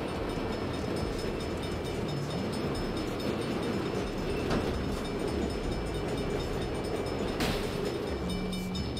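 A train passes in the Saints Row video game, a steady loud rumble of rolling rail wagons with faint clicks, filling the scene without speech.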